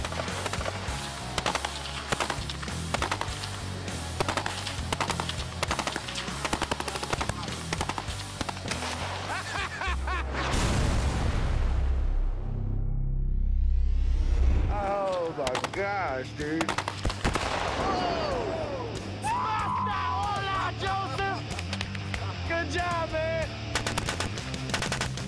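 A remote controlled machine gun firing long, rapid bursts outdoors, loud and continuous for many seconds, with a heavy rumbling swell midway and people talking over the shooting.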